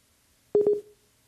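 Short electronic telephone tone after a dropped Viber call during a live TV weather segment, a quick burst of three pulsed beeps trailing into a brief fading tone, then silence.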